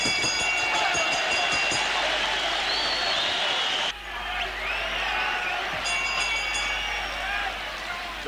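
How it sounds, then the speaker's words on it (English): Large boxing crowd at the National Tennis Center in Melbourne roaring and cheering between rounds, a broad continuous wash of noise under a commentator's voice. "The crowd begins to come alive here at the National Tennis Center in Melbourne"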